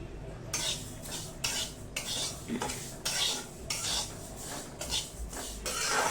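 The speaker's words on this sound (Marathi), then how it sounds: "तिळ मस्तपैकी भाजून घेऊया" Sesame seeds roast in a dry pan while a spatula scrapes through them in repeated rhythmic strokes, each sweep a gritty rustling burst over a soft, steady crackle.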